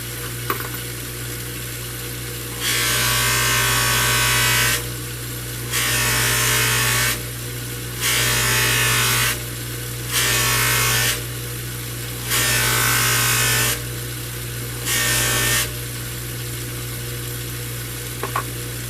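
Buffalo nickel coin beads being polished with a power tool, a loud hissing whir sounding in six bursts of one to two seconds each with short pauses between, over a steady low hum.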